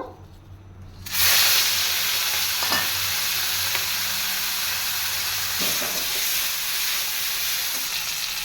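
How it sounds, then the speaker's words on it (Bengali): Prawns rubbed with salt and turmeric drop into hot oil and set off a sudden loud, hissing sizzle that stays steady and close, with occasional light clinks of a utensil. "এখন তেল গরম হয়ে গেছে মাছগুলোকে ভেজে নেব"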